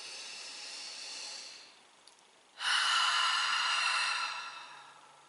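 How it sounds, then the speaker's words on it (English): A slow, deep breath drawn in and let out during a guided relaxation exercise, heard as a soft airy inhale, a brief pause, then a louder, longer breathy exhale, close and alone. "Let's do a nice deep breath in and out."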